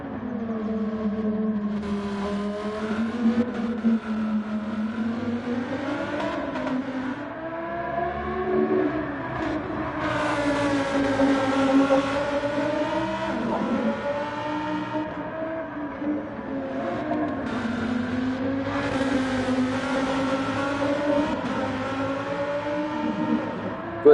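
Race cars circling the Fuji circuit during a 12-hour endurance qualifying session, engines droning steadily with rising and falling pitch as cars pass, continuous and fairly loud throughout.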